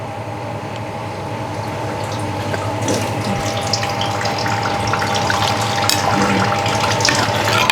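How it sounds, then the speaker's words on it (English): Water poured into a hot pan of frying minced chicken, making a steady hissing, bubbling sizzle that continues without pause. "you can add a little bit of water."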